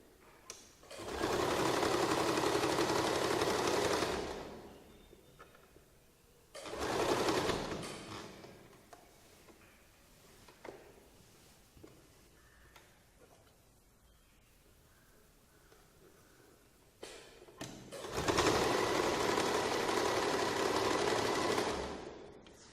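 A sewing machine stitches the back neck of a lined churidar top in three loud, close bursts of steady running, separated by quieter pauses of handling and faint background noise, with no talking.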